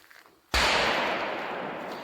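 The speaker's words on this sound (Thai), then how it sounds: "ได้ยินเสียงเขาฝึกยิงปืน ตกใจหมดเลยนะคะ" A single loud, sharp gunshot from nearby shooting practice cracks out beside a roadside, followed by a long, fading echo.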